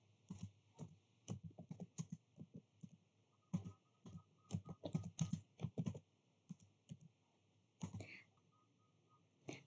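Computer keyboard typing while configuring network switches for VLAN links, in quick irregular bursts of close, crisp key clicks with short pauses between runs.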